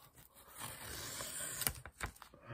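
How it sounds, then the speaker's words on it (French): Adhesive tape is peeled off a surface up close, with soft tearing and crackling bursts followed by a few sharp ripping sounds. "Je vais enlever le scotch."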